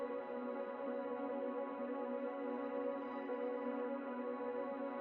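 A sustained ambient drone loop from a music production project, a steady layered tone holding evenly throughout with no rhythm or breaks, alone and at moderate level.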